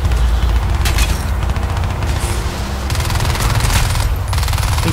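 Enemy gunfire from the video game Crysis 2 crackles in rapid automatic bursts and booms, loud and close, filling the scene with no talk over it.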